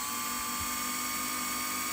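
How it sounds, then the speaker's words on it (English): A small drill bores into a die-cast Hot Wheels Honda Civic toy car, giving a steady high-pitched whine with tonal harmonics, close and continuous with no talk. "Put the drill in reverse and clean them off."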